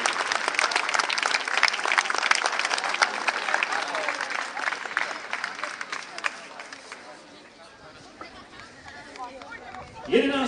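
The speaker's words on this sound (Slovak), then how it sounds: "Veľký potlesk." Loud, dense applause rings out at a youth football tournament's closing award ceremony, then fades after several seconds into quieter crowd chatter, with voices speaking throughout.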